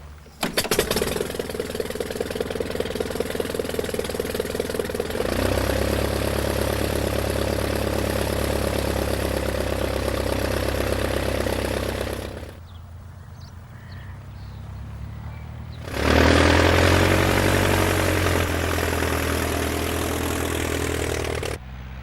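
A propeller aircraft engine sputters to life with rapid chugging, then settles into a loud, steady idle, pauses briefly, and roars up again.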